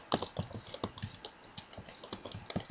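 Fast, uneven tapping on a computer keyboard as a player types a name into a game's hall of fame; the clicks are close and come in quick bursts, with no voices.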